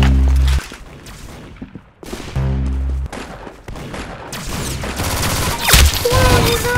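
Gunfire in the Roblox shooter game Arsenal: several sharp, loud shots and bursts separated by brief gaps, with game sound effects between them and no talking.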